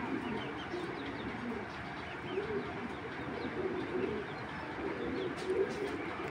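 Racing pigeons of Belgian and Dutch lines coo softly and steadily in a loft, a low murmuring drone that carries on without a break under a background hiss.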